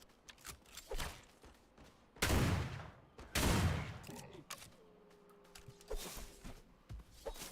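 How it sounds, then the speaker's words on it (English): Shotgun blasts in a video game, two heavy booming shots with long decaying tails among lighter scattered clicks and thumps, loud and close with no speech. "I love this shotgun"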